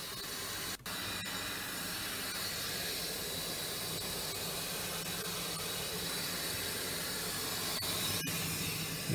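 Air blowing out through the vent holes of a Lay-Z-Spa inflatable hot tub with its bubble feature running, a steady close hiss that continues without break.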